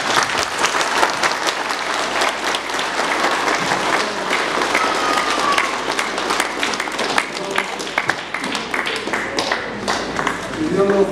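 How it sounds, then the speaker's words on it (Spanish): A wedding crowd in Pallpata applauds a newly married couple, dense clapping from many hands that builds and stays lively for about eleven seconds, with voices mixed in. "Aplausos para estos dos hermanos."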